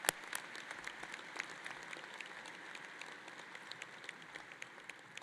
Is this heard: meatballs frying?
no